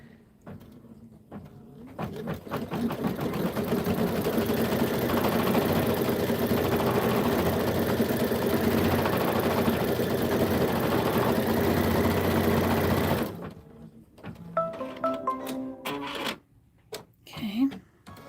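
An embroidery machine stitches a placement line for freestanding lace winter napkins, giving a steady, busy mechanical whir for about eleven seconds before stopping, followed by a few brief handling noises.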